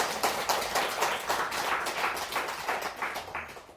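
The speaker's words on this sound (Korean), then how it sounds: "이런 데는 우리 한 박수를 한번 쳐야 되는데." Group clapping during a Buddhist monk's lecture on the Mazu sayings, a run of brisk, fairly close claps in a steady rhythm for a few seconds with no talk over it.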